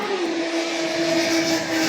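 Corvette engine idling at a car show, a steady close rumble with a constant tonal hum and no revving, loud throughout.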